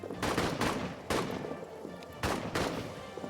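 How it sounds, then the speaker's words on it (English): Rifle fire in the World War I trench game All Quiet in the Trenches, several sharp shots in quick bursts at moderate distance, cracking in two clusters with ambient battlefield noise between. "Fire at them from the flank. Definitely fire at them from the flank."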